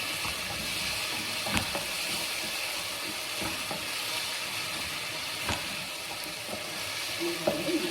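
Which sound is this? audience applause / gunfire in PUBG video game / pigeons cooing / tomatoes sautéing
tomatoes sautéing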